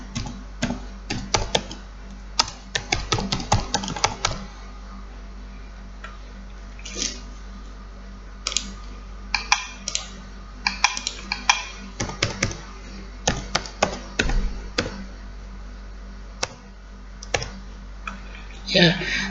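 Keys clatter on a laptop keyboard as someone fills in an online attendance form, in irregular bursts of quick clicks separated by pauses, close and fairly loud over a low steady hum.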